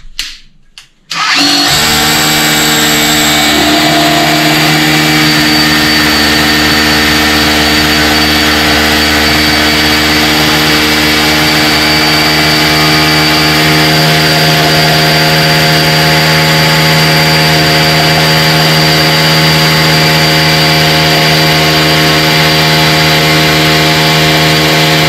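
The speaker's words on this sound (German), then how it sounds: "Also erst gehe ich mit dem 8mm Bohrer durch und dann sehen wir, wo wir ankommen auf der anderen Seite." An 8mm drill bit bores through a wall while mounting a Bosch TR 8501i instantaneous water heater, a loud, steady whine with strong harmonic tones that starts after a brief pause and runs without break.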